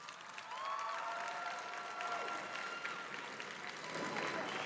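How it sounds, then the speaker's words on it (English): Graduating students applaud their parents at a high school graduation ceremony in a large hall, a steady wash of crowd clapping sustained throughout with faint voices and some murmuring mixed in. "Graduates, please give your parents a round of applause."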